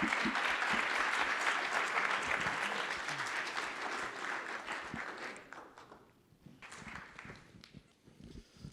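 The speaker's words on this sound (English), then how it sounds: "I'd like to give a big round of applause for Kareem Webb" Audience applause for speaker Kareem Webb at a social equity event, a broad crowd clapping loudly and steadily, then thinning out into scattered claps near the end.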